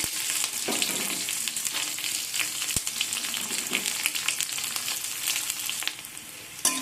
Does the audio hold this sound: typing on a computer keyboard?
no